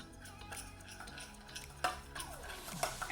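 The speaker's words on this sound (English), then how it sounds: "Okay, now we need to give this a stir." A spoon stirs cocoa-powder Oreo cream filling made with vanilla and a pinch of salt in a bowl, giving soft scraping and clinking against the sides in irregular strokes, close up and fairly quiet, with no talking.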